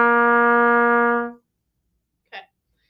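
A single sustained low C on trumpet, played open with no valves, rings steady and bright for over a second, then stops; a brief faint voice sound follows after a pause.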